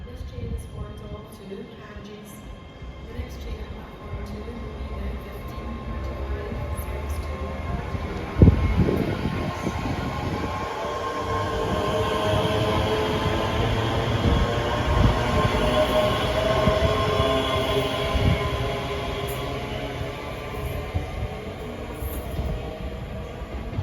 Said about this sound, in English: Departing out now is the 1531 ScotRail service from Edinburgh Waverley to Glasgow Central